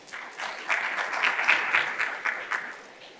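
Summit audience clapping for a panelist, a moderate burst of applause that swells quickly, holds with a few sharper claps, and fades away toward the end.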